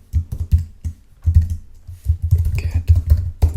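Keys on a computer keyboard tap in quick irregular bursts, close and fairly loud, with thuddy low strokes and brief gaps between runs.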